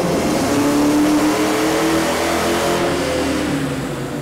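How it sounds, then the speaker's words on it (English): A 2000 Ford Mustang GT V8 with an automatic transmission and a custom tune revs hard during a dynamometer pull, a loud, steady, close engine roar that holds throughout without any talking. "it's time to make another pull on the dyno and see what the results are"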